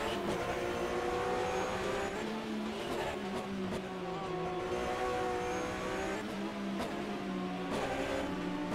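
Porsche GT race cars lap the Pau-Arnos circuit during an evening French cup race, their engines howling and rising in pitch as cars pass one after another, loud and continuous.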